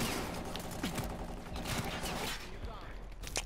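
Sniper rifle quickscope shots in Black Ops 3, with a few sharp cracks and mechanical bolt clatter among game noise, while a voice talks faintly underneath.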